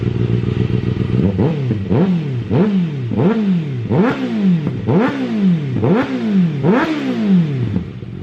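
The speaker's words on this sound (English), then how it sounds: "let's give it some revs." A 2024 Kawasaki ZX-6R motorcycle with a slip-on exhaust revs repeatedly, about a dozen quick throttle blips rising and falling in a steady rhythm, loud and close with a deep exhaust note.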